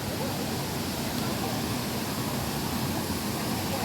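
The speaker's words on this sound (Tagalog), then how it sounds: "Ang unang bubungad sa inyo ang waterfalls." Waterfall and fountain in Hong Kong Park, a dense, steady rush of falling water filling the whole short stretch, loud and close with no breaks.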